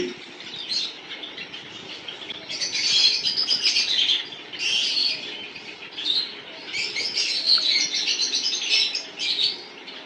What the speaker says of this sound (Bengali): আমাদের এখানে অনেক জাবা পাখি আছে সাদা কালো সিলভার